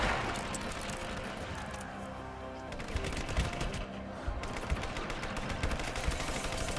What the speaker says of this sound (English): Someone has an assault rifle or something.